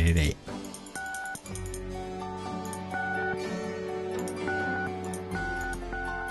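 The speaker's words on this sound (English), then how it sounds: "You can just push as many numbers as you want until you hit dial." Keypad tones from a cell phone in the Gabriel Knight 20th Anniversary Remake adventure game, a series of short beeps over a steady layer of background game music.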